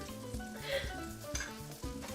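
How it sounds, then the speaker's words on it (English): Butter sizzles and crackles in a frying pan, a steady close hiss with small pops while it melts, and faint scraping or stirring recurs every half second or so. "Listen to that sizzle."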